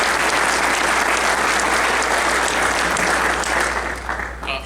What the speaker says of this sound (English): how about a round of applause for that incredible rendition of the national anthem?